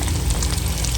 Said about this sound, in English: Just fry it until it's cooked all the way through.